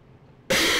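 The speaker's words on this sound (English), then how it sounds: "Sorry about the coughing." After a moment of near silence, a single sudden, harsh cough bursts out loud and close.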